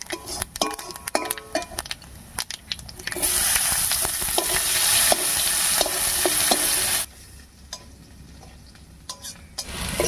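Chopped onion fries in hot oil with two dried red chillies, a bay leaf and whole cumin seeds. A spoon clatters against the pan in sharp stirring strokes, and a loud, hissing sizzle swells in the middle before fading back to clinks.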